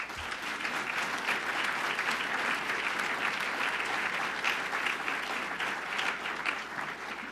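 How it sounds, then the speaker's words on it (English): A room of people at an official announcement event claps steadily, an even wash of applause lasting the whole stretch at moderate loudness with no voices over it. "So I'd like a round of applause for our team."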